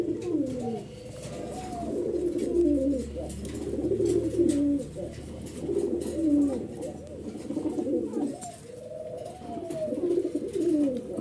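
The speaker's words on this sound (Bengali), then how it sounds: "কবুতরগুলো দেখতে অনেক সুন্দর, বিগ সাইজের।" Large Sirazi Lahori pigeons coo in a steady, repeating pattern, each rolling call returning about every two seconds, close and clear over a faint background murmur.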